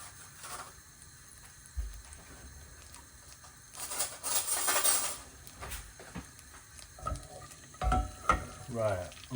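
Butter melts and sizzles in a hot pan on the stove for a vegetarian lasagna, a soft continuous frying hiss with louder bursts as the pan is moved and scraped.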